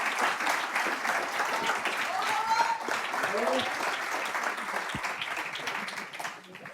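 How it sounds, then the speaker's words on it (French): An audience at a French live talk show bursts into sustained, dense clapping that holds steady and slowly tapers, with a few voices calling out over it. "On peut applaudir"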